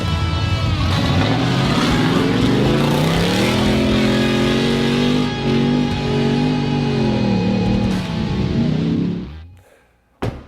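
Loud Ford Raptor truck tearing around a dirt track, engine roaring steadily with rising and falling revs for several seconds, then cutting away abruptly near the end.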